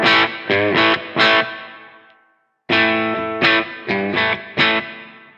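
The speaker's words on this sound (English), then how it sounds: "What I could do is I could convert that to a modern humbucker sound." A Keyztone Exchanger Pro electric guitar set to a modern humbucker pickup plays two short matching phrases of loud, distorted chords. The first phrase rings out and fades into a brief silence before the second begins.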